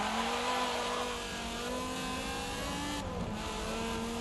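A Viper race car in the Forza 7 video game, heard as a sustained loud engine drone with falling pitch as it brakes hard, steady and close throughout, with no talk.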